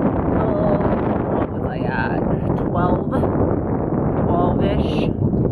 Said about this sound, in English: The wind is like blowing super hard right now.